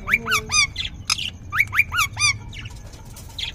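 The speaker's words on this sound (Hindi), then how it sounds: "मिठू मिठू बोला है तोते ने" Green parrots in a cage fighting Australian parrots give sharp, loud squawks and chirps in quick bursts, close by, then a short pause before one more call.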